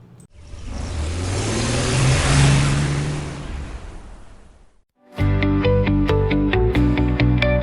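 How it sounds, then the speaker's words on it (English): A Ford Mustang engine roars steadily as the car drives, rising and falling over five seconds before a brief gap and then a brighter, busier burst of tonal sound. "we decided to take the Mustang out for a spin and blow out the cobwebs"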